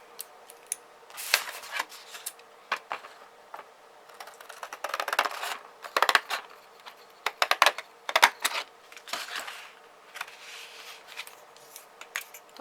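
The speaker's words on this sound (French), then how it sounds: "Mes ciseaux." Scissors snip through paper while a white monochrome card is crafted, irregular bursts of short crisp cuts and rustling, close and fairly quiet, with brief pauses between strokes.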